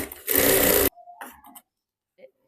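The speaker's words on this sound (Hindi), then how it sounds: "मैं मियानी के ऊपर दूसरे साइड सिलाई लगा रही हूँ इस तरीके से।" A domestic sewing machine runs in one loud, steady burst while stitching the crotch seam of a four-panel salwar, then stops, followed by faint handling clicks and rustles.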